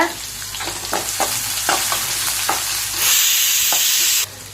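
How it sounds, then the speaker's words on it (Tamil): Cut onions frying in a pan, a continuous sizzle punctuated by repeated scraping stirs, rising to a brighter louder hiss near the end before dropping back, no talking. "அந்த வெங்காயத்தை போட்டு நல்லா வதக்கி விடுங்க"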